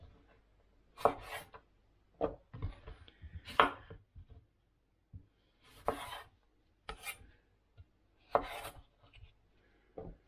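A knife cuts the core out of a cucumber on a board during food prep, giving a run of short, separate cutting and scraping strokes at irregular intervals, fairly close and moderately quiet, with no talk.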